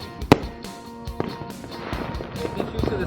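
Fourth of July fireworks pop and crackle at a distance, one sharp bang early on followed by scattered, fainter bursts and crackles, with faint voices in the background.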